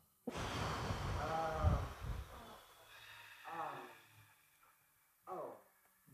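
A long, loud breath drawn in and released during a tantra yoga session, followed by two shorter, softer breaths, close to the microphone in a quiet room.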